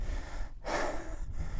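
A hiker breathing heavily on a steep uphill climb in the Mourne Mountains, one loud close gasping breath in the middle with a fainter one after, no talking.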